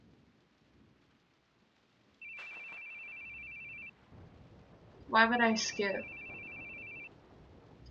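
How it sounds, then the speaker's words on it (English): A phone rings in the horror video game The Boogie Man, a steady electronic tone sounding in two bursts separated by a short gap, with a person talking over the second burst. "Your phone's ringing."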